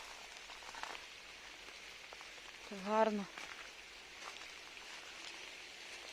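A steady, faint patter of rain that fell for over an hour in a garden with apple trees hisses softly throughout, while someone speaks briefly in the middle.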